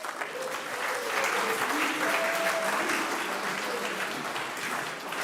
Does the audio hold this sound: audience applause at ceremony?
yes